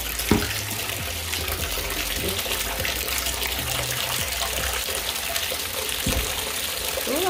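Water running from a tap into a home bathtub, a steady loud gush with a constant splashing rush and occasional low thuds, with no talk over it.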